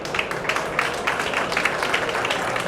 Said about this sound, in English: you join me and applaud